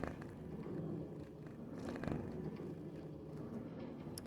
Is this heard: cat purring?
yes